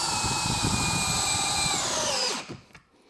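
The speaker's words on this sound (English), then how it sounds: "Okay, take 2 with the Dewalt drill, not on hammer setting," A DeWalt drill whines steadily on its regular, non-hammer setting, with a high motor pitch that sags slightly before it winds down and stops.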